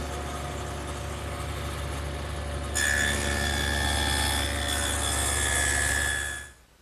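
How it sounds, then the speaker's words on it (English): Table saw fitted with a dado head cutting a rabbet along a plywood side panel: a steady motor hum rises sharply into a louder, bright cutting whine partway through, holds, then drops away at the end, close and with no talk. "With the dado head still in, I've just readjusted the fence to make this rabbet."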